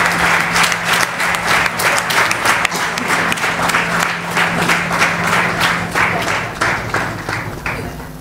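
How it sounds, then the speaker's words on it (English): Conference audience at a medical gathering breaks into sustained applause, many hands clapping in a dense, fairly loud wash with some distinct individual claps standing out. "So please give a big round of applause to our Madam."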